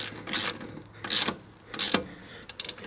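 Bolts are tightened with a ratchet. Three separate bursts of quick clicking pawl action, each about a quarter second, are followed by a shorter flurry of clicks. The sound is close and dry, with no voices.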